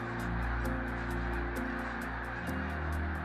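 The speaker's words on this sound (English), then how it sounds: "Trying to locate one specific snow goose among hundreds of thousands takes a special" Hundreds of snow geese honk over the St. Lawrence River during fall migration, a dense, loud and continuous chorus of overlapping calls with rhythmic repeated honks, no voices.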